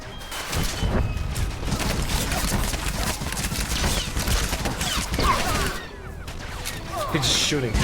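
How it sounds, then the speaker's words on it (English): Rapid bursts of blaster-style gunfire from an enemy in Star Wars: The Old Republic (SWTOR), with the shots firing almost continuously and loudly, then briefly dropping away before resuming. "He's just shooting directly at me."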